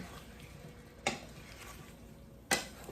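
Juicy tomato cooks in olive oil in a pan for Jamaican-style chorizo pasta, a soft sizzle underneath two distinct scraping strokes of a spoon across the pan bottom.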